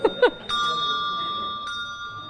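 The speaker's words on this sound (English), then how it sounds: "Do you ring bells, Noel?" A bell is struck once and rings on with a steady sustained tone, after a few brief voiced sounds, then a second light strike near the end, in a parish hall.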